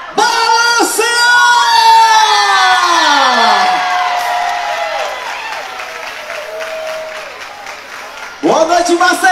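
A crowd at a quadrilha festival in Maceió applauds and cheers loudly, with clapping, whoops and yells swelling and then fading, and a brief fresh burst of shouting at the end.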